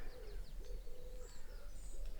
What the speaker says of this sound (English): You can hear the wood pigeons